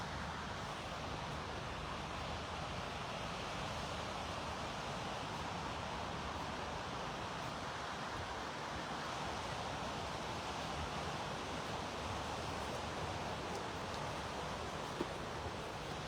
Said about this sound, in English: It's nice to hear the water.